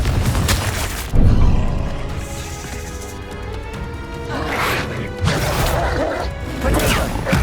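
Spell explosions from Hogwarts Legacy, the Confringo fire blast, go off as loud booming crashes: one heavy impact early, then further bursts and rumbling debris later, with game effects around them.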